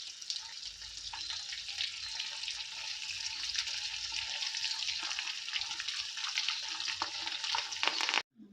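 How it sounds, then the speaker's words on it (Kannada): Rava-coated silver fish frying in a shallow layer of oil, a steady close sizzle with faint stirring and scraping, running continuously without talk until it cuts off near the end. "ಆಯಿಲಲ್ಲಿ ನಾವು ಫ್ರೈ ಮಾಡಬೇಕು"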